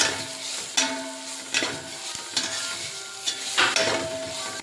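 A coconut mixture frying in a pan, dense sizzling mixed with repeated scraping and stirring strokes of a spatula against the metal, close and fairly loud with no talk.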